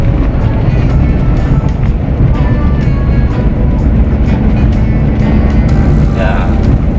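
Car engine with a manual gearbox pulling hard in fourth gear at rising revs before the change up to fifth, a loud continuous drone with road and wind noise throughout.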